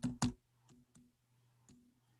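A few scattered keypresses on a computer keyboard, two sharper clicks up front followed by lighter, sparse taps, close and quiet in an otherwise still room.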